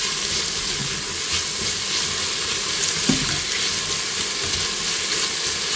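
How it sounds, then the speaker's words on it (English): Onions sizzle steadily in a pot over heat, a dense continuous frying hiss close up with faint stirring clinks and no voices. "we're just going to cook these onions until they get tender and a little bit translucent"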